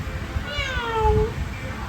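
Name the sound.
cat meowing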